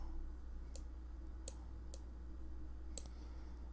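Sharp computer mouse clicks in a quiet room, roughly five or six separate clicks spaced irregularly over a few seconds, faint and close against a steady low electrical hum.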